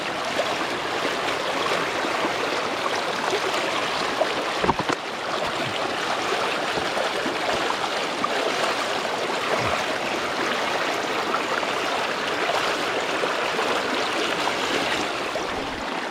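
Stream water cascading over rocks, a steady broadband rushing and splashing that holds at a moderate, even level throughout with no voices.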